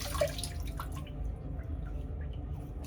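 Water drips and splashes softly while shaving lather is rinsed off skin, a few quiet trickles and droplets close by, with no one speaking.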